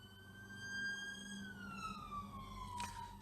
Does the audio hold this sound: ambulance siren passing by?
yes